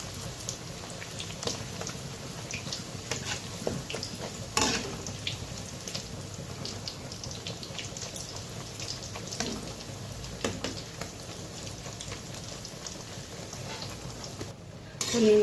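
Nimki dough frying in oil on a low flame crackles and sizzles in a steady, fine patter with scattered sharper pops, close and fairly quiet.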